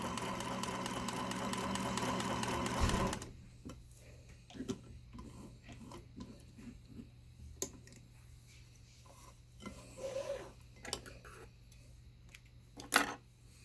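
A Singer Featherlight sewing machine runs a scroll edge hem in a loud, close burst of stitching lasting a few seconds, then stops, leaving faint clicks and handling noises.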